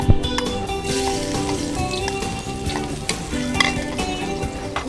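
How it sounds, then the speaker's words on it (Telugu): Onions fry in hot oil in a pan for quail biryani, with a continuous close sizzle and repeated scraping stirs of a spoon throughout. "మనం ఏంటంటే ఉల్లిపాయలు వేస్తున్నాం."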